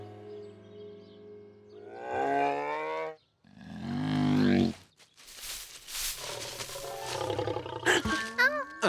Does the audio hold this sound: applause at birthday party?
no